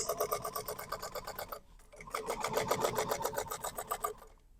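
A sewing machine runs long basting stitches across the bottom of a fabric pool tote bag, a rapid even rattle of needle strokes that pauses briefly, then resumes and slows to a stop, close up with no talking.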